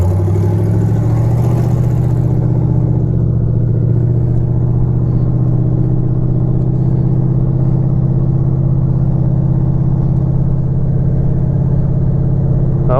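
A Buick's engine drones loud and steady through a run at Sumerduck Drag strip, a continuous mid-pitched roar holding nearly constant pitch without pauses or voices.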